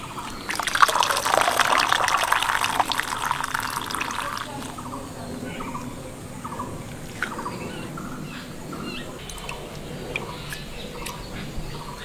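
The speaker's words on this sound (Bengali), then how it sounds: "এবার ভালো করে জল ঝাড়িয়ে নেব।" Water trickles and splashes as soaked drumstick flowers are shaken out in a container, louder at first and then fading to a faint dribble with light handling noise.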